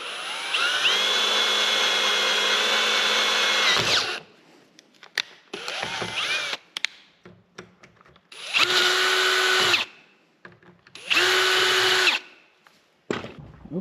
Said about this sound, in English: I'm also running the drill pretty slowly